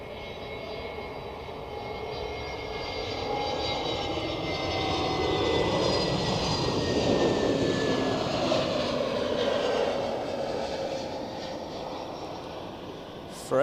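Austrian Airlines flight 569 arriving on runway 14 at Zurich Airport, a continuous jet engine roar with faint whining tones that builds to a peak midway and then eases off as the plane passes.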